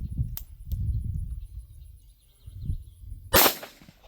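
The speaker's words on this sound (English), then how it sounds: "We're going to try 5 rounds of that Sig 230 grain V Crown." .45 ACP Sig Sauer 230 grain V-Crown jacketed hollow point fired from a pistol over a chronograph: one loud, sharp report near the end, preceded by a couple of faint clicks and low handling rumble.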